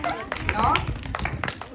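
Children clap together at a church gathering, a short burst of uneven, overlapping claps heard close by while a voice talks over the clapping.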